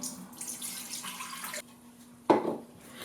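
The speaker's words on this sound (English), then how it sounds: "I'm going to pour the broth" Broth poured into a slow cooker, a faint liquid trickle and splash that stops, then a short louder sloshing pour, close by with no voices.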